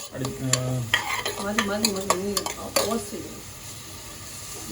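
Sliced onions cook on low flame for biryani, stirred with clattering scrapes and utensil knocks against the pan over a soft sizzle, with a brief tonal voice-like sound early on and quieter frying toward the end.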